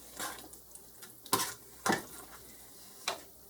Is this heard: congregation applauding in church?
no